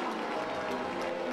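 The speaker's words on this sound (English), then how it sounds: "You hear the booing." A football stadium crowd boos the Eagles' Santa Claus as he runs down the field, a sustained, dense roar of many voices rolling steadily without a break.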